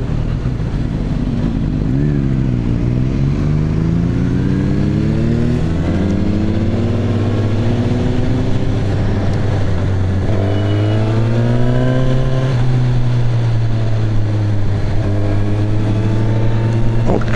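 A Suzuki Katana motorcycle engine drones steadily while riding, its pitch rising and falling through gear changes, loud and close throughout with no talking.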